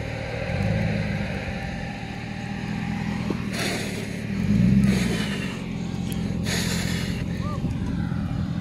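A GMC truck does a burnout, rubber burning through on a slippery surface, with a steady loud engine roar and tire noise throughout, swelling briefly midway, and bursts of crowd noise over the top.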